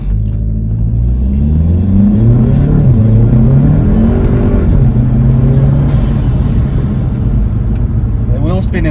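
An Audi A3 fitted with a new intake revving and accelerating, its engine a loud, close rumbling drone that rises and falls in pitch, with people talking over it.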